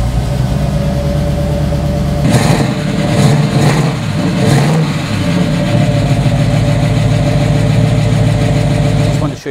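A 1967 Chevrolet Camaro RS/SS 396 big block convertible is cranked and fires, with a few sharp revs before it settles into a loud, deep, lumpy idle that continues steadily.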